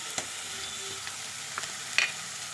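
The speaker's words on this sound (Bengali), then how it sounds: "এখন দিচ্ছি চিংড়ির কিমাটা" Minced shrimp and chicken sizzle in a frying pan while being stirred, a quiet continuous hiss broken by a few light scrapes and taps of a spoon.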